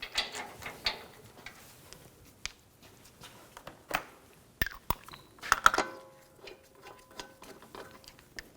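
A ratchet snugging down lug bolts on a Volkswagen Jetta wheel during front steering rack bellows work, scattered short clicks and clacks in quiet bursts, fairly faint and close.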